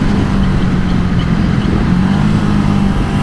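A 2022 BSA Gold Star motorcycle engine drones loud and steady as the rider opens the throttle to overtake, heard up close with a continuous low rumble and no speech.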